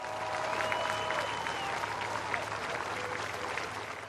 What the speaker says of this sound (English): There was a final standing ovation.